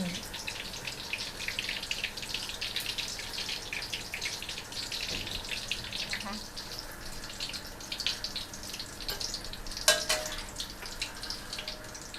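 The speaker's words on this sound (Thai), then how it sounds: "การทอดนี่จะทำให้มะเขือเราไม่ดำนะคะ" Sliced eggplant frying in oil in a pan, a soft, steady hiss with light crackles and a few sharper pops, fairly faint and close, with someone speaking Thai at times.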